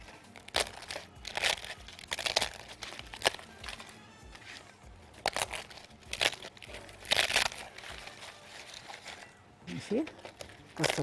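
Crisp rokak pastry sheets snap and crackle as they are broken by hand, in several sharp, dry bursts separated by pauses while someone talks.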